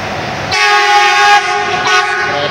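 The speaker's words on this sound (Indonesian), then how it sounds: "KA Argo Muria nih, melintas langsung di stasiun Manggarai." KA Argo Muria train running straight through Manggarai station in Jakarta without stopping, its loud sustained horn blaring close by over the rumble of the passing carriages, the horn dipping briefly then sounding again.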